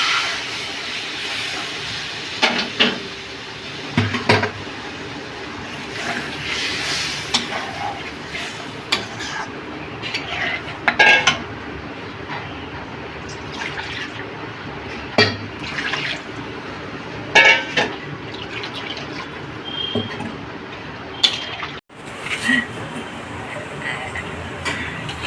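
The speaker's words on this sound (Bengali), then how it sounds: "এবার গরম জল করে রেখেছি পাশে দিয়ে দিলাম।" Hot water poured into a cooking pan, a continuous watery rush and splash running under intermittent talking, with a few louder clatters and bumps along the way.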